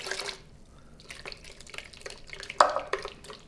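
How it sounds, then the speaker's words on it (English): Pasta water is poured into mint pistachio pesto in a home kitchen, giving soft splashing and dripping with a few sharper drips and utensil taps, close by, with no talking. "I gotta use a little pasta water to put inside, and we mix all together."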